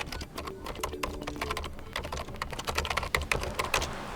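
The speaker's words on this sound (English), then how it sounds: "so let me just quickly type it in." Fingers tap out an email address on a computer keyboard, producing quick, irregular key clicks up close, with short bursts and brief pauses and no talking.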